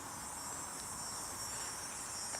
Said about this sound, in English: Now we got the sound of summer here. The cicadas.